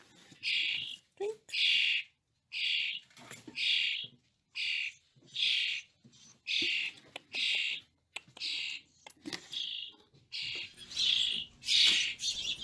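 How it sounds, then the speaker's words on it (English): House finch chicks give repeated high, bright chirps in short bursts about every second, fairly close and clear against a quiet background, with a few soft handling noises between calls. "This house finch has discovered its wings."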